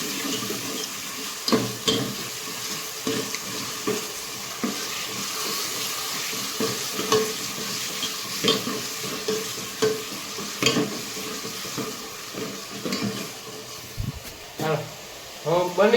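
Vegetables sizzle and fry in a pan on a village kitchen stove, with repeated scraping stirs coming in bursts throughout and a steady crackle underneath.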